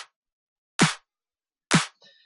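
A layered house-music clap sample built in FL Studio hits twice, each a crisp, bright, short burst with a low body, separated by clean silence and followed by a faint tonal tail.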